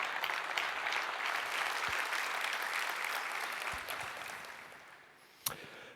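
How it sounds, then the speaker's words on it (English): Dense, sustained applause from a large keynote audience at a Google Cloud Summit in Singapore, steady and full throughout before easing off slightly near the end, with one sharp knock or clap just before it finishes. "please do join me right now in giving them a round of applause"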